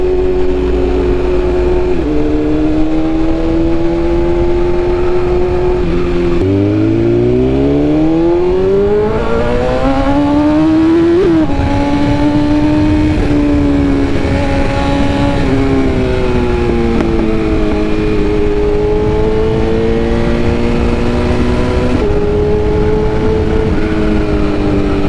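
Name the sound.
BMW S1000RR motorcycle engine revving while riding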